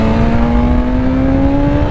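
A 2023 BMW S1000 RR superbike accelerating hard on a race track, its engine a loud, close, steadily rising high-pitched howl sustained throughout with no other sounds.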